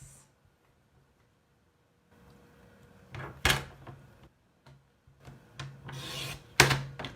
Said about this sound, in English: I need to trim it twice.